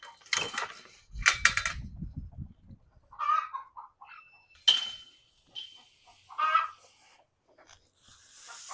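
Hen squawking and clucking in agitated bursts because another bird occupies the nesting box, mixed with rustling and some clattering in a backyard coop.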